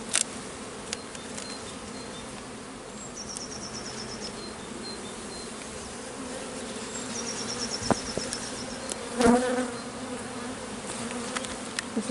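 Honey bees swarm out of an opened hive with a dense, continuous buzzing drone, louder as individual bees fly near, during a beekeeping inspection, with a few faint clicks of handling in the background.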